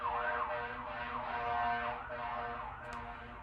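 A fire engine siren wails in repeated rising and falling sweeps, steady and fairly loud, alone with no voices.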